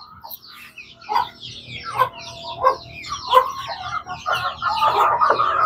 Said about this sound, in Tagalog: Mga sisiw natin guys, oh.